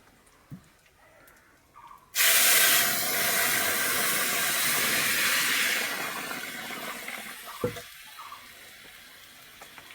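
Whole cumin seeds hit hot oil as a tempering, bursting into a loud, close sizzling hiss that holds for several seconds and then gradually fades.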